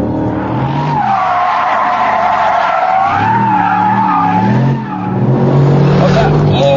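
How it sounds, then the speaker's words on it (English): Mercedes SLR McLaren on a racetrack, its engine roaring loud and close with a long squeal of tyres through a corner, the pitch rising and falling as the car pushes on. "Oh, that awesome engine really makes this car."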